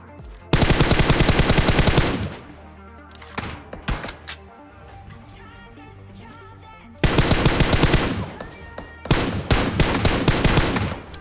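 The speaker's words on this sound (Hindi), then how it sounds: "अब तुम देखते जाओ मैं इनके कितना खतरनाक टैप फायर देने वाला हूँ।" M4 rifle tap fire in PUBG Mobile: loud, close bursts of rapid gunshots, a long volley, then scattered single shots and quieter distant fire, followed by two more dense bursts.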